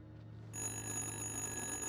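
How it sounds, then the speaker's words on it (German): A telephone rings in the horror video game Little Hope, a steady electronic bell tone that starts abruptly after a short quiet lead-in and carries on loud and unbroken. "Ich meine, es ist ja nur ein Telefon"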